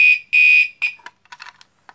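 Fire alarm coded in march time and powered from a 12-volt DC supply through a pull station, giving short loud bursts of a harsh horn tone, one longer in the middle, then scattered clicks and rattles.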